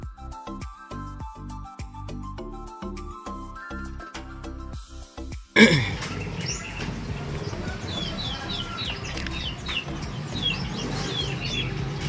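Racing pigeons arriving at a loft during a club race, with bird chirps and calls scattered over a busy, noisy background after a sharp burst midway; the first half is dominated by other rhythmic tonal sound.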